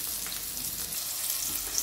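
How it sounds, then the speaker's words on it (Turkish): Onions sizzle and crackle in a hot pan, a steady hissing fry with small pops, close by and uninterrupted. "Soğanlarımızı şöyle birazcık kızartacağız sevgili dostlar"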